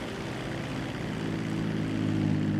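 A Grumman S-2 Tracker propeller plane in a GTA 5 mod runs its engines with a steady, loud droning hum and throbbing low pulses, building slightly in power throughout.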